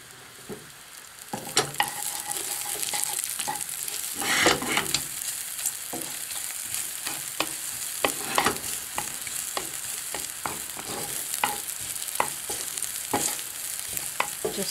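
Garlic frying in a pan for linguine pesto pasta produces a dense, continuous sizzle with frequent crackles and clicks from stirring, close and fairly loud throughout.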